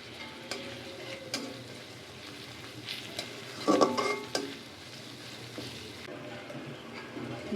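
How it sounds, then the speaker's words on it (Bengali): Spice paste with chili powder, turmeric and salt being fried and stirred in a pan for a koi fish bhuna, a soft steady sizzle with scraping spoon strokes and a brief louder clatter midway, no voices. "লবণ মশলাটা একটু ভালোভাবে কষিয়ে নেব"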